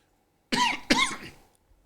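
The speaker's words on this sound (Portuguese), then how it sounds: "Comecei o ano com um pouco de tosse." Two quick, close coughs in a row, loud and sharp, followed by silence.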